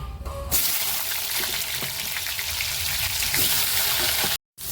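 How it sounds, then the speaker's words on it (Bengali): Steady crackling sizzle of pointed gourd frying in hot oil, close and continuous, with a brief silent gap near the end. "এবার পটলটা ভাজা করব"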